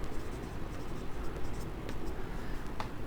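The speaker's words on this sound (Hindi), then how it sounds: "अब मैं यहाँ लिखता हूँ" Marker or chalk scratching across a board during an inventory accounting lecture makes a run of close, rapid scraping strokes with short squeaky accents, and a teacher's voice sits faintly underneath.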